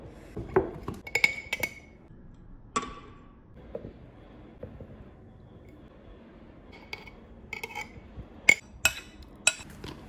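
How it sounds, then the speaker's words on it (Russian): Sliced tomatoes and vegetable sauce go into a glass litre jar layer by layer, bringing quiet soft handling with scattered sharp glass clinks and taps, some in quick pairs, spread across an otherwise hushed kitchen. "Таким же образом выложите все помидоры в банку."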